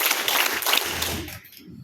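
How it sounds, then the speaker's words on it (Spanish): Three quick group claps from a class in a stress-management session land in close succession as a bright, crowded crackle, followed by a low voice murmuring. "Tres aplausos."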